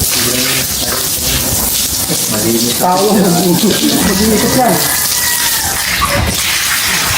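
Water runs steadily, likely from a tap or hose, while cleaning a large Burmese python's enclosure. The broadband flow is continuous and loud throughout, with voices talking over it.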